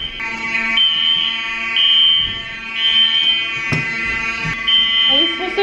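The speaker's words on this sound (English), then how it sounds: "The fire alarm is going off." A building fire alarm at Northeastern University blares loud and close, a steady harmonic electronic tone that keeps sounding without a break, with short pulsing accents throughout.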